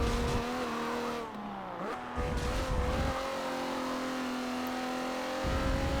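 A slow stock car laps the Nurburgring in Forza Motorsport 7, its engine a steady, droning whine that dips briefly as it shifts or lifts off, then settles back to a constant near roar.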